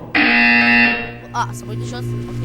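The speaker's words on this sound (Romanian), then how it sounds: "When you hear the buzzer, look down at the floor." A loud, sustained electronic buzzer from the video game Portal 2 sounds once for about a second, then cuts off as a voice begins speaking.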